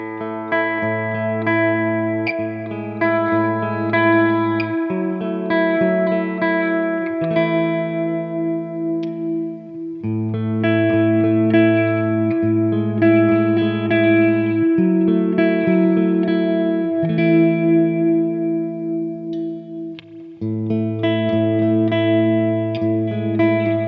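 Clean electric guitar, a PRS CE24 SE on the bridge pickup in humbucker mode, playing chords and melodic lines with a lush reverb tail, steady and fairly loud, with no voices.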